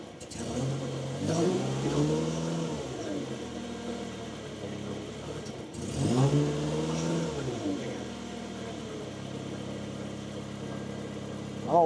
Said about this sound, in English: Let's try to accelerate and see what the acceleration's like.